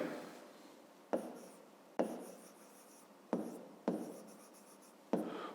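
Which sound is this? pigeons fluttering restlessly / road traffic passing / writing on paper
writing on paper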